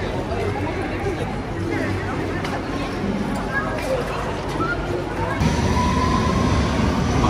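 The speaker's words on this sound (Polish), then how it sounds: "No i przyjechało na ten metro." A London Underground train pulls into Victoria Station with a low rumbling roar that builds through the platform, mixed with people chattering nearby.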